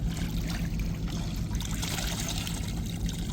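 Water sloshes and trickles continuously while large mud crabs are rinsed in salt water, then fresh water, in a container, with a steady wet splashing close by.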